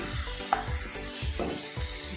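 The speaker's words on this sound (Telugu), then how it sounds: "కాజు కూడా వేసుకొని ఇలా కొంచెం ఫ్రై చేసుకోవాలి." Cashews fry in a pan for a restaurant-style kaju paneer masala curry, making a moderate sizzle broken by a few soft stirring scrapes, with no voices.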